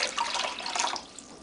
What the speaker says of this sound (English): Then a couple more cups of water here.